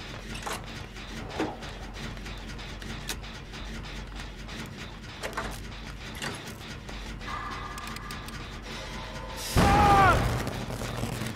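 Generator blowing up from the Eruption perk in the survival horror game Dead by Daylight, a sudden burst with a sharp crackle near the end of a stretch of quiet mechanical ticks and faint ambience.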